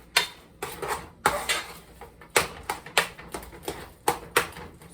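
Potatoes being stirred and mashed with a potato masher in a pot, irregular clanking knocks of metal against the pot, about a dozen sharp hits over a few seconds, no talking.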